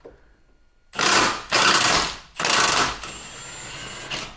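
Impact wrench on a 2020 Land Rover Defender, loosening armature bolts: three loud, close bursts of rattling hammering, each about half a second, then a steadier whirring run to the end.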